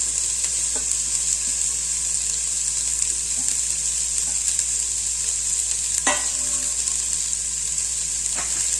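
Beans and carrots frying in oil in a pot give a steady, even sizzle that runs throughout, with a few soft stirring scrapes; no talking.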